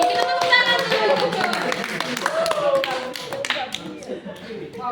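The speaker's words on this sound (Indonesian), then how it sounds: "Kita tepuk tangan dulu." Classroom students clap their hands together in a burst of scattered, overlapping claps, moderately loud and close, with a teacher's voice heard over the clapping.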